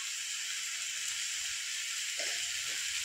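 Masala spice paste fries in a pan with a soft, steady sizzling hiss, faint and continuous, broken by a few brief stirring sounds near the end.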